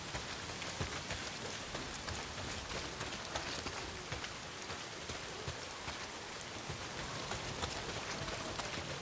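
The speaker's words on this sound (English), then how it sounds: "not if it's pissing down rain" Steady heavy rain pours down in the video game Days Gone, a dense continuous hiss of drops on surfaces with no pauses, loud and even throughout.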